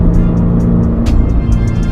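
A 2022 Subaru BRZ with an AWE catback exhaust and Cusco suspension accelerates through corners, its engine a loud, steady close drone with a strong low rumble and faint ticking sounds above.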